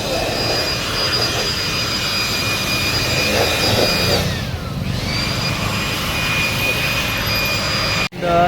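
Compressed air blasting dust from the air filter of a 2009 vehicle, a loud steady jet-like hiss with a high whine that dips briefly midway, then cuts off abruptly near the end.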